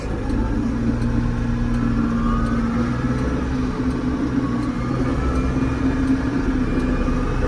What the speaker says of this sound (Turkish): Sadece gaza basıyoruz